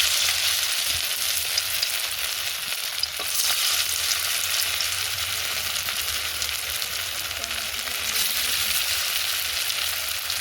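Drumstick flower fritters fry in hot oil in a wok, giving a steady, loud crackling sizzle that runs unbroken, with a few faint clinks.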